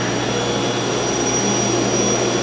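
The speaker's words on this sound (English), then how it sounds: "you'll notice the residual as the pump spools down" The vacuum pump of a CNC router table spools down with a loud, steady whine and airy roar, a constant mechanical hum close by.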